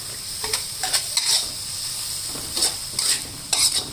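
Minced chicken stir-fried with mushrooms and holy basil in a hot pan for spicy Thai kaphrao: a constant background sizzle broken by several short, loud bursts of scraping and tossing, with no talking.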